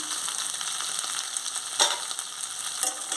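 A taro curry with turmeric is stirred in a pan, a constant close sizzle with a few sharper spatula scrapes cutting through, no voices.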